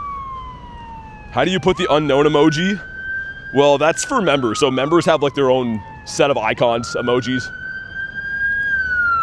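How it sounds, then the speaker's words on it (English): Police and emergency vehicle sirens wail continuously in a busy street, their rising and falling tone running steadily beneath a person talking. "sorry about the sirens. There's like chaos happening here."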